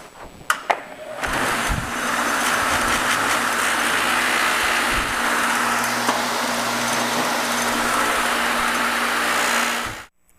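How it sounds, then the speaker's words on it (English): A polishing wheel spins up and buffs an aluminum hubcap with compound, giving a loud, steady whirring drone that runs unbroken for about nine seconds before stopping abruptly. "So we're going to go ahead and start polishing now."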